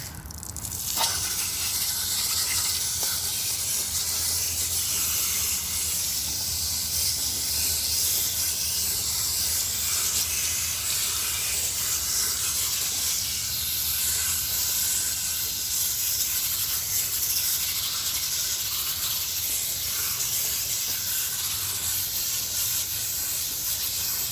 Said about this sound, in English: I'm gonna quickly do the evaporator using the jet.